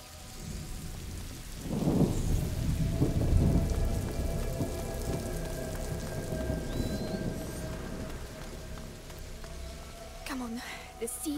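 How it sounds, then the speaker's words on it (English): Rain falls steadily in A Plague Tale: Innocence, with a low thunder rumble swelling early before settling into constant downpour, plus scattered game sounds and faint tones near the end. "Lucas, Hugo, stay out of the rain."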